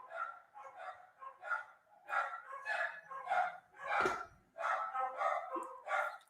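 Several dogs bark frantically in repeated bursts, a rapid string of yaps and woofs heard from a distance, fairly faint and unbroken by speech.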